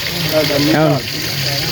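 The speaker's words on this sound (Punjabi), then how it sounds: "ਜੈਕਟਰ ਚਲਾ ਲਿਆ ਪਾਣੀ ਭਰ ਜਾਂਦਾ" Water gushes steadily from a jet pump in a rural setting where buffaloes are watered, a constant rushing flow heard close up, with a brief voice-like tone over it partway through.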